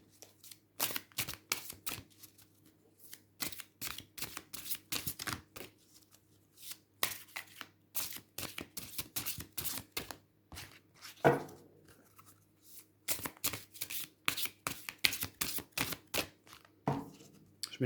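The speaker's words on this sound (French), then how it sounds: "Je mélange bien parce que vu qu'il est commun aux 3 groupes, il faut bien rebrasser" Tarot and oracle cards shuffled by hand in long runs of crisp riffling bursts, close and clear, with short pauses between rounds and no talk.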